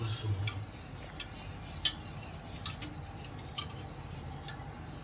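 A spoon stirs sugar into Milo pudding, producing soft, faint scraping and light clinks against the container, scattered irregularly with one sharper tap and a low background hum.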